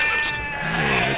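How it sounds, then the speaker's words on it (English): A single sheep bleat in Age of Empires II: Definitive Edition, a short wavering nasal cry heard close and clear, lasting about a second over faint game ambience. "Look at that free sheep."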